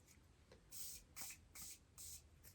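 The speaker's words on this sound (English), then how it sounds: "I'm going to try with setting spray actually and see if we can like bump this up." Makeup setting spray misted in four quick, soft hissing bursts close by, with brief quiet pauses between the pumps.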